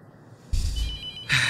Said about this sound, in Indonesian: Rong, ada telepon.